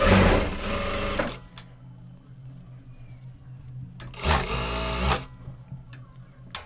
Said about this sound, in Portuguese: eu continuo costurando a outra ponta da tira